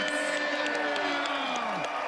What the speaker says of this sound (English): can I get one big round of applause for your USFL Conference champion, Birmingham Stallions?